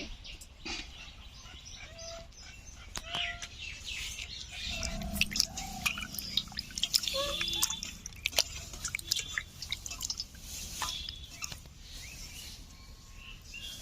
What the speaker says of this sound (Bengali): বাটা মাছগুলো কেটে নিয়েছি, এখন ভালো করে ধুয়ে নেব।